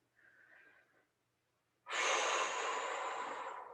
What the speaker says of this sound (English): 2 long, deep, sweet breaths here